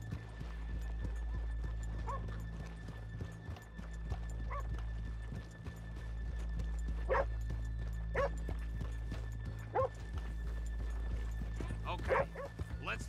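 Horse hooves clip-clop at a walk in Red Dead Redemption 2, steady rhythmic clops close by over a low hum, with a horse's snort and faint game voices mixed in.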